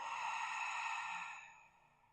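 A long, soft breath out during yoga practice, one steady breathy exhale that fades over about two seconds.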